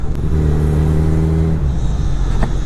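A Kawasaki Z1000 superbike runs along a road, its engine producing a steady, close droning note that drops away partway through and is followed by a lower rumble.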